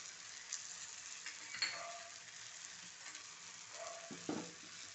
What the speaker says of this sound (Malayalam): ഇത് നന്നായിട്ടൊന്ന് വഴറ്റിയെടുക്കുക.